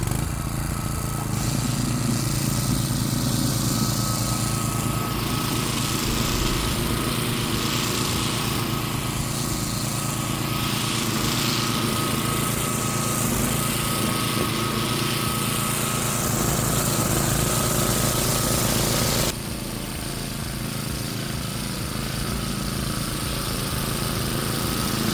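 DR Pro XL string trimmer cutting ordinary lawn grass, a steady high-pitched small-engine whine with a whirring line buzz that holds close and loud throughout, dropping slightly near the end.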